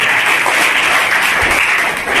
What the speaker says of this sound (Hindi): एक बार जोरदार तालियों से मैडम का स्वागत है.